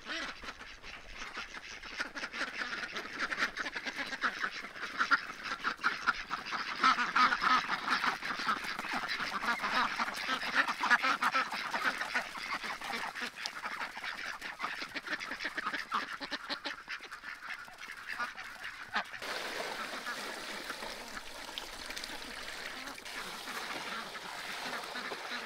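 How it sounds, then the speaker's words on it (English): A flock of ducks in a farm orchard in Canada quacks and honks continuously in a dense, overlapping chorus, fairly close, with the calls thinning slightly toward the end. "let's see if we can get the ducks out in the orchard"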